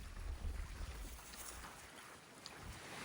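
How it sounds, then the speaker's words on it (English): Wind blowing outdoors on a narrow country road in North Wales, a steady rushing buffet against the microphone with low rumbling gusts, continuous and without voices. "You can probably hear the wind's coming up a bit now."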